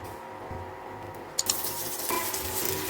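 Paneer hitting hot oil on a dosa pan, with a bright sizzle that swells up after a couple of soft clinks and holds steady, close and moderately loud.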